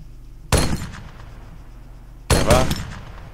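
Two sharp gunshot bursts ring out in the military shooter ARMA III, each a loud close crack followed by a short decaying tail, spaced about two seconds apart over a quiet background.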